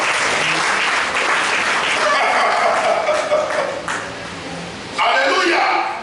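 A church congregation at a Sunday service bursts into loud, sustained applause and clapping, dips briefly, then swells again, with voices calling out over it.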